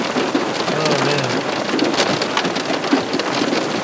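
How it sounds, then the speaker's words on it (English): Heavy rain pours down on a Niagara River carp fishing trip, a loud, dense, continuous hiss of drops on surfaces with scattered sharper spatters throughout. "and we're getting slammed with rain."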